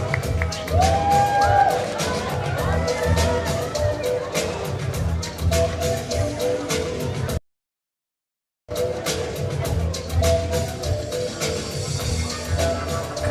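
Sangeet guests cheering, whooping and clapping for the bride in a loud crowd, with music and voices mixed in; the noise breaks off briefly partway through, then the cheering resumes.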